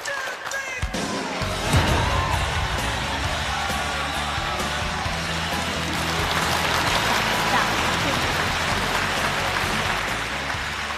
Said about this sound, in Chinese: 掌声有请两位老人。